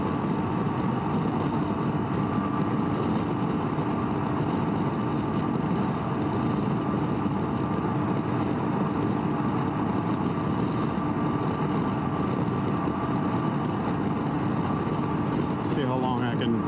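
Steady engine and wind roar from a 2019 Can-Am Ryker three-wheel motorcycle cruising on a highway, loud and continuous throughout, with someone talking over it.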